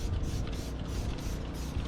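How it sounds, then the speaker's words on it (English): Clay bar lubricant is sprayed onto car glass during detailing: a steady, close hiss of spray lasting about two seconds, alone with no talking. "What I'll actually do is I'll spray it on the glass"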